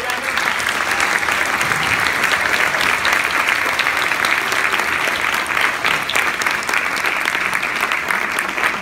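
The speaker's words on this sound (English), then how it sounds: "Please give her a round of applause." An audience at a genocide memorial event applauds in a steady, dense wash of clapping that holds at an even, loud level for nearly nine seconds, with no break and no voices rising above it.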